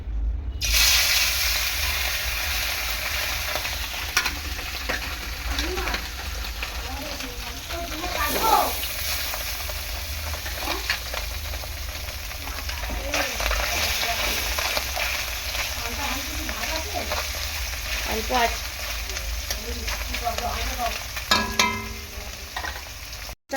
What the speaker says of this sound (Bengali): বেলে মাছটা ভালো করে ভেজে নেবো